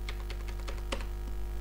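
Quick bursts of keystrokes on a computer keyboard while command line arguments are typed for a C++ program, close and crisp clicks in an uneven rhythm over a low steady hum, with no speech.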